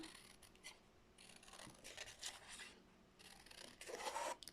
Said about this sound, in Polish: Fajnie, że odnalazły się moje nożyczki. A w końcu mogę ciąć tak jak należy.